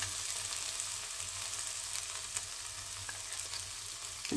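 Chana dal tempering frying in a pan as a spoonful of turmeric goes in for a Bengali coconut chana dal, a steady, close, even sizzle that hisses on without pause and with no talk over it.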